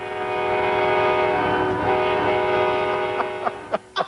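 An Amtrak train running between La Junta, Colorado and Albuquerque sounds its horn in a loud, sustained chord, with a few sharp rail clacks near the end.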